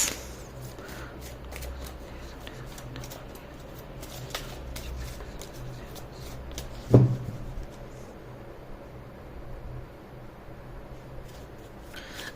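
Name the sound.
shuffling angel oracle cards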